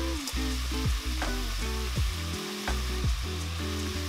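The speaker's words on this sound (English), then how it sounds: "And then you can just stir in the rice noodle with the pork and the vegetables" Rice noodles stirred in a pan with pork, vegetables and soy sauce, frying with a steady close sizzle while the spatula scrapes and taps in a quick irregular rhythm.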